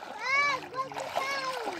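Children splashing while bathing in a river, light water splatter under loud, excited children's voices and shouts close by.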